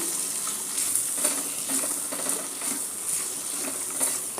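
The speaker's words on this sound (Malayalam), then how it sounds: "സവാള നന്നായി വഴറ്റി കൊടുക്കുക" Chopped onions, three medium ones, sauté steadily in a pan for a Kerala coconut crab curry, a dense continuous sizzle with faint scraping stirs and no voices.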